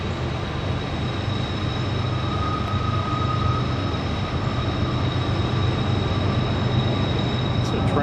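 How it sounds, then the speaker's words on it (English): A steady, broad rumble of a train rolling past at a distance along a river in New River Gorge, continuous and unchanging for the whole stretch, with faint tonal hums above it. "It's a train on this side of the river."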